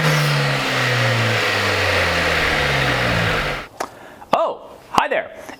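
A 2022 Honda Civic Si engine revs loudly with the hood up, a sustained high rev that falls away, followed by a few sharp short blips of the throttle.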